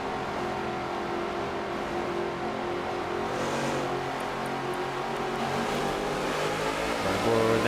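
Race cars in a NASCAR racing video game accelerating together at a restart, a dense, steady engine drone with layered whining pitches that swells slightly near the end, with no talk.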